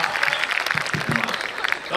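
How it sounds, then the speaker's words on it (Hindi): Audience applause at a Hindi comedy poetry (hasya vyangya) show, a dense steady patter of clapping mixed with crowd noise and talk over about two seconds. "उस पर आप सबकी तालियां मिलेंगी।"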